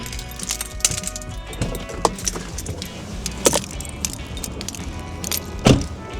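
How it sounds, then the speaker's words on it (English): Keys jangle in a parked car just after its engine is turned off outside a local coffee shop, a few bright metallic clinks and rattles standing out close by over a low background rumble. "We turn off the car."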